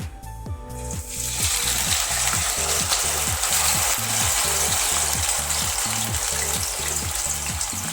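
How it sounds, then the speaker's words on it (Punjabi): Taro root (arbi) frying in hot mustard oil gives a loud, continuous close-up sizzle and crackle, preceded by a brief clatter as the pieces go into the pan, with a faint rhythmic underlying tick throughout. "ਸਰੋਂ ਦੇ ਤੇਲ ਦੇ ਵਿੱਚ ਆਪਾਂ ਅਰਬੀ ਨੂੰ ਫਰਾਈ ਕਰ ਲਵਾਂਗੇ"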